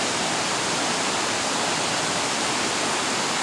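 A waterfall in Valencia, Philippines roars as a loud, dense, unbroken wash of rushing water, steady and close throughout, with no voices.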